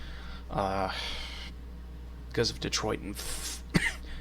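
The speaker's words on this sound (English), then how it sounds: "Why am I still coughing?" A few short coughs and a throat clear in a quiet room, close and abrupt, with a brief burst of noise near the start.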